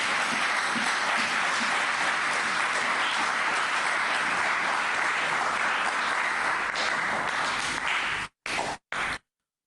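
Sustained, dense audience applause greets a pastor as he is introduced at a French-language public event, loud and steady for about eight seconds before breaking off into a few short final bursts.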